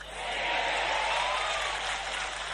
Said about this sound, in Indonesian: Oh, tepuk tangannya bukan main lagi